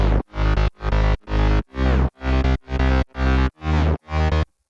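Sidechained sub bass synth from an FL Studio drop, with a stereo enhancer narrowing it toward mono: nine loud, distorted sustained notes pumping in a steady rhythm, each ducking briefly between hits, alone with no voice.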